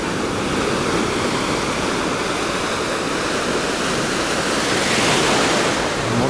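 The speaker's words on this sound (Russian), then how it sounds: "Вот такое море сегодня." Sea waves wash onto a beach in Alanya's Oba district, a dense continuous roar of surf with wind noise on the microphone, loud and close, no voices.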